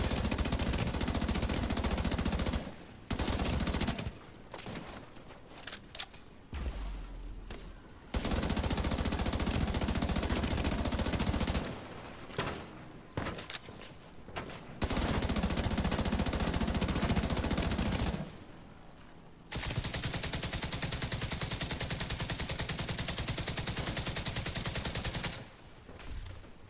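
Rogue assault turret gunfire in The Division 2, long sustained bursts of rapid automatic fire broken by short pauses, loud and close, with no talk.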